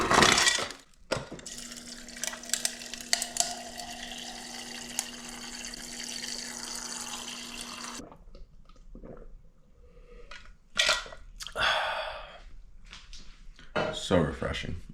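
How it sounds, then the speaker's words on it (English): Tap water runs into a cup in a home kitchen for several seconds as a steady hiss with a tonal hum, then stops, followed by scattered clinks, handling sounds and brief splashes. "Get a cup of water."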